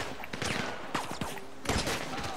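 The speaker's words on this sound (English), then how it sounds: "Let's take the snipers. Let's get the snipers." Gunfire in a GTA 5 Online heist as players pick off snipers, with several sharp shots in quick succession over a short, busy stretch.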